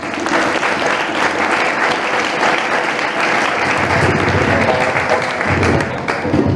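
An audience at a tribute evening for Jacques Parizeau gives loud, sustained applause, a thick continuous roar of clapping hands as band members are introduced.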